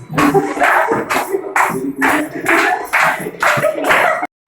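Rhythmic hand clapping during a women's Marathi folk game (zimma fugdi), repeated bursts of claps in a steady beat, close and lively, mixed with voices and playful shouting.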